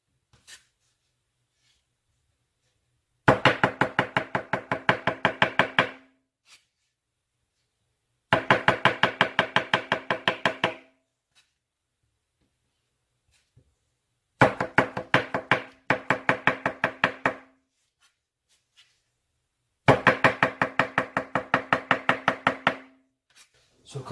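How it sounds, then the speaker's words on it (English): A reasonably sharp knife chopping mushrooms on a cutting board, heard as four bursts of quick, even, close taps, each lasting a few seconds and separated by short quiet pauses. "You can go fairly quickly if you've got a reasonably sharp knife."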